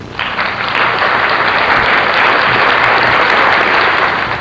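A steady burst of hand clapping that starts abruptly and continues loud and sustained, with no talk over it.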